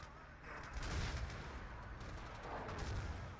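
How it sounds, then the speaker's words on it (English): Artillery firing in Battlefield 2 during a competitive conquest match, a series of heavy, rumbling booms rolling over a steady battlefield din, fairly distant and sustained across the moment. "Artillery for Scandi going off."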